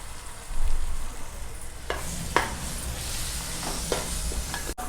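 Goat head curry cooking in oil in a pan, with a steady close sizzle and frying hiss and a few sharp stirring scrapes and clinks of a spoon against the pan.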